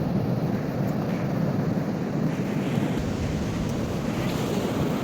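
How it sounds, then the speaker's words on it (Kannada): Heavy wind at a beach rumbles and roars continuously, buffeting the microphone with a low, surging wash of noise and no talk. "ಬಟ್ ಹೆವಿ ಗಾಳಿ ಇದೆ ಇವತ್ತು"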